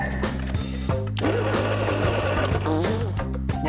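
A starter cranks the engine of a long-idle Australian-built Mini panel van powered from a jumper lead setup, giving a rapid rhythmic whirring chug with a brief pause and restart, heard up close.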